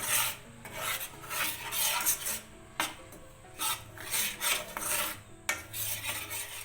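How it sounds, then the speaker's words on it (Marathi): Besan (gram flour) being stirred continuously in a pan over low heat, a steady rasping scrape of spoon against metal in repeated strokes, close and alone with no voices. "असंच फिरवून घ्यायचं, सतत फिरवत राहायचं, नाहीतर जळते बेसन"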